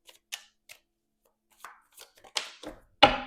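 Soft papery flicks and riffles of tarot cards being shuffled in short bursts, ending in a louder, fuller shuffle up close.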